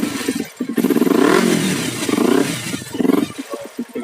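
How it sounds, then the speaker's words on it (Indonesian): A Kawasaki Ninja 250cc motorcycle engine runs close by, loud and steady with rhythmic revving swells and a smooth pulsing tone, and no voices. "kita hidupkan mesinnya, kita dengerin suara mesinnya"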